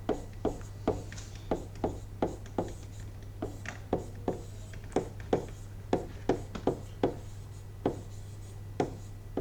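A pen writes out the working of a Class 6 maths word problem on paper, giving a steady run of short scratchy strokes with quick ticks at a regular pace over a constant low electrical hum.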